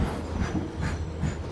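WAG 9HC electric locomotive hauling a fully loaded freight train past a station platform: a steady low rumble with rhythmic wheel clatter rising and falling, mid-distance and continuous.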